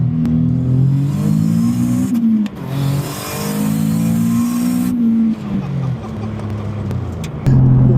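A single-turbo Nissan 370Z of 680+ wheel horsepower on NISMO V1 beadlocks pulls hard toward redline, loud close engine tone rising steadily through several long sweeps with brief dips at shifts.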